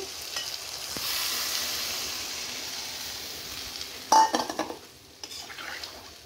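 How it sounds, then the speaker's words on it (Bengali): Water is poured into a pan of sautéed fish curry. A steady frying hiss gives way to a sudden loud burst of sizzling and clattering against the pan, which then fades. "দেখো সুন্দরভাবে ভাজা কষানো হয়ে গেছে আমার। এবার আমি জল দিয়ে দিব।"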